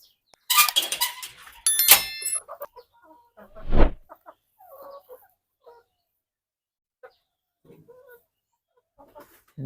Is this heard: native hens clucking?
yes